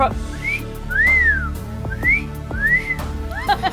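A robot's mechanical, synthetic-sounding whistle repeats a rising-and-falling cat-call pattern several times over a low machine hum.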